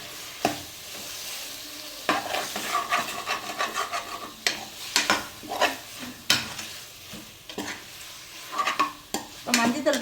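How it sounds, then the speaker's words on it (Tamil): Mutton pieces are sautéed with turmeric in a pan over a soft, steady sizzle. A utensil scrapes and stirs against the metal in irregular bursts, and the whole scene stays fairly quiet and close. "மஞ்சத்தூள் பாருங்க கொஞ்சமாக சேர்த்துக்கலாம் இப்போ நல்லா வதக்கிக்கலாம்"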